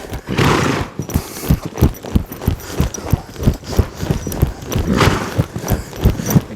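A horse in training moves at a steady gait, its hooves clip-clopping in a regular rhythm close by, with a brief whinny and no talk over it.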